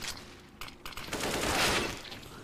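Rapid bursts of gunfire trade back and forth in a Counter-Strike match, loud and dense with overlapping shots that swell toward the middle of the clip, with no voices over them.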